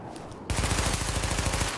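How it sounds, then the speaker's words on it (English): Rapid automatic weapon fire at targets in the Tom Clancy's The Division video game, a sudden loud burst of evenly spaced shots that starts partway in and runs steadily to the end. "Open fire at the highlighted targets."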